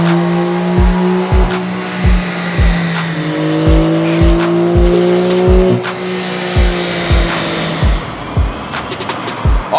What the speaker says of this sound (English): we have our 992 Carrera on the dyno for some stock baseline runs